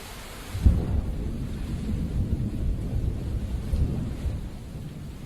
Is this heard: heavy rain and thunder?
yes